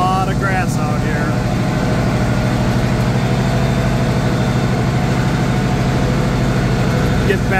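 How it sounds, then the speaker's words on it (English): An old tractor with a Hinterker cab runs steadily at low RPM while mowing hay in a grassy pasture, a loud, constant engine drone with no break. "And then I can run the tractor maybe a little bit faster RPM."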